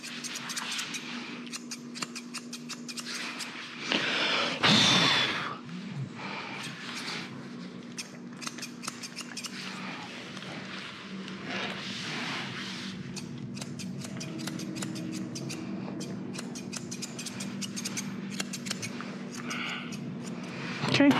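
Scissors snip through a dog's fur during a trim, a run of small crisp clicks and cuts repeating close by across a quiet room hum, with one louder rustle near the start.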